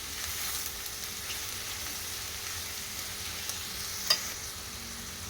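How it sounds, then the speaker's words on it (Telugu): Pieces of ridge gourd frying in a pan, a steady faint sizzle that holds throughout, with one small clink partway through. "బీరకాయ ముక్కల్ని కొద్దిసేపు ఫ్రై చేసుకోవాలి"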